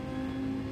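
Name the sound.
car engine hitting the rev limiter in Gran Turismo 7 video game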